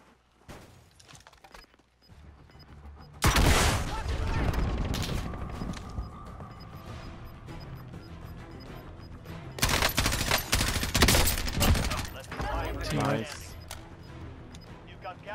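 Warzone battle royale gunfire erupts in loud, sharp volleys, one long burst early, then another cluster later followed by a few scattered shots, with quieter stretches and game sounds between.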